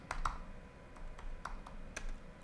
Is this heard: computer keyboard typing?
yes